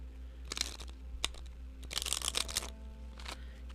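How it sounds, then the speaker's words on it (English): Tarot cards are shuffled in quiet bursts of riffling and rustling that come and go over a low steady hum, with no talk. "A little shuffle."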